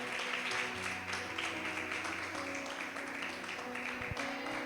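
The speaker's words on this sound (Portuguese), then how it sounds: "Você pode dar uma salva de palmas ao Senhor?" Church congregation clapping in praise to the Lord during an evening worship gathering, a continuous spread of many hands at moderate distance with sustained musical tones from instruments underneath.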